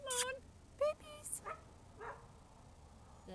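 Several short, high yips and whimpering barks from young dogs come in scattered bursts over a quiet background, fairly close.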